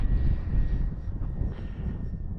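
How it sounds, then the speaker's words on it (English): A Bigfoot RC model airplane flies in strong wind, its engine a steady distant drone under heavy wind rumble and buffeting against the microphone. "Bigfoot is such a sweet flying plane"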